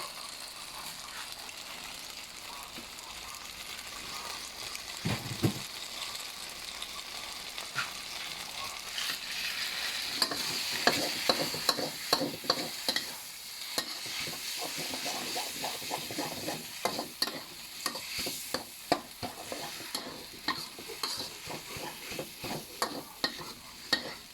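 Rice noodles stir-fry for pad see ew in a hot pan, with steady sizzling and hissing under repeated scraping and clattering strokes that grow busier and louder toward the end.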